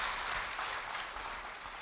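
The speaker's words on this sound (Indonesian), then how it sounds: "Beri tepuk tangan bagi dia" Broad, steady applause from a church congregation during a sermon, a dense wash of many hands clapping at moderate distance, fairly faint and continuous with no talk over it.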